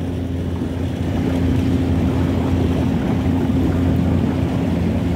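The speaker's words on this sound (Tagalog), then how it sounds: "So yung mga nakikita nyo na tumatakbo, ayan ay mga ferry, yung mga namamasada rito." A ferry engine drones steadily over harbour water at Whampoa, Hong Kong, a continuous low hum with wind and lapping waves around it.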